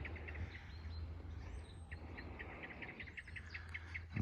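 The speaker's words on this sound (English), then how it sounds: "We've got nesting swallows all around the house at the moment" Nesting swallows chirp and twitter in quick repeated bursts around a house with roof guttering and overhangs, fairly faint against a steady outdoor rumble, with no one speaking.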